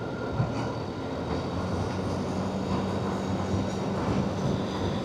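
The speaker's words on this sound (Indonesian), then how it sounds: "Lewat atas ya teman-teman kereta tuh jalurnya." Train rolling along an overhead rail line near a roadside in Limbangan, heard as a steady, dense rumble that holds at an even loudness throughout, with no voices.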